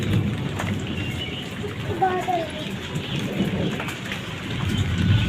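Steady rain patters on surfaces nearby, a dense continuous hiss with a faint low rumble underneath.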